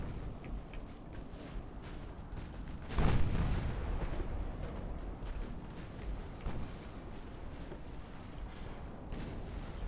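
Naval gunfire from warships in Ultimate Admiral Dreadnoughts, a heavy booming salvo bursting out loud about three seconds in and rumbling off, with scattered sharper shots and mechanical clatter over continuous battle noise.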